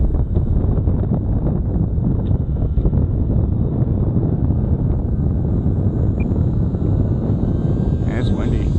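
Gusty outdoor wind buffets the microphone with a loud, continuous low rumble while a Parkzone Icon A5 radio-controlled plane flies overhead, its motor whining faintly through the blustery roar.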